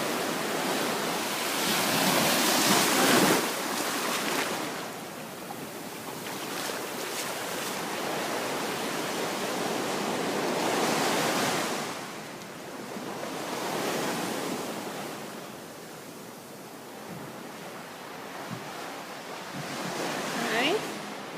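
Ocean surf from the Maldives sea at Velassaru, rolling in about 20 feet from a room's door: steady broadband wash with swelling crests around 3 and 11 seconds, plus wind noise buffeting the microphone.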